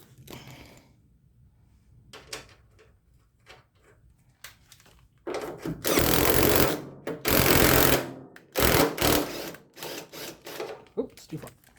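A pneumatic impact wrench running a nut down bolt threads while cleaning up hardware on a Jeepster Commando, firing in loud, close bursts of a couple of seconds each after quiet shop noise and faint voices.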